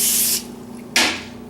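Cooking spray hisses onto a pan in two close, loud bursts, the first about a third of a second long and the second starting sharply and then fading, with no talking.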